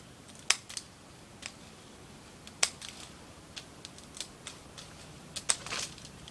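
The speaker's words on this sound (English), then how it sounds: "So I'm actually just going to cut it across from here." Scissors cut across rolled material, giving sparse, sharp snips and clicks at irregular intervals, close but fairly quiet over a soft hiss.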